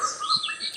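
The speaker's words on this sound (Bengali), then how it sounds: "পাখির কলতান" A brief, faint chirp of bird song with high twittering notes, heard at a distance against a quiet outdoor background.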